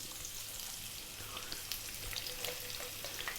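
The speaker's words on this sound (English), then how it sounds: "I've got some oil in there. I'm using some olive oil. We're going to drop in" Onion dropped into hot olive oil over high heat for a simple tomato sauce fries with a steady, crackling sizzle, faint and continuous, with light popping throughout.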